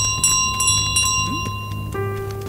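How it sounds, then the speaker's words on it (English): Bell chime in Untitled Goose Game, a bright ringing tone with steady tonal partials over game music, one short rising note midway and a lower tone entering near the end. "My bell."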